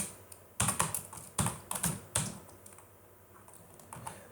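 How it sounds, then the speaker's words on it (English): Fingers tap out Unity C# code on a computer keyboard in quick clustered bursts of clicks, close and clear, then trail off into a few sparse keystrokes. "So on disable we just write here a print and we write here inside on disable."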